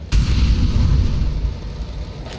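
An incendiary grenade goes off in Counter-Strike: Global Offensive, a loud, close burst that settles into a steady low roaring burn for about two seconds.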